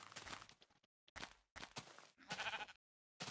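Short bleats from a sheep in Minecraft alpha 1.0.5_01, several separate calls in quick succession with brief silent gaps between them, fairly close and clear, with no talking.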